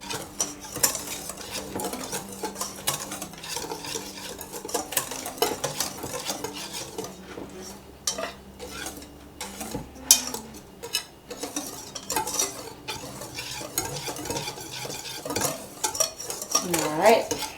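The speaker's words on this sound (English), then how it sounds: "I'm just going to take a whisk and I'm just going to mix these together." A whisk clatters quickly and repeatedly against the sides of a bowl as ingredients for a slow cooker Mississippi mud cake are mixed, a busy metallic rattle in bursts with short pauses.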